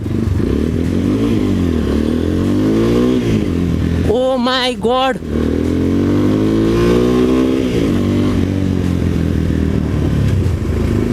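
A Dominator 250 cc motorcycle roars loudly and steadily while being ridden, its deep engine drone rising and falling slightly, with a rider's brief exclamation cutting through midway.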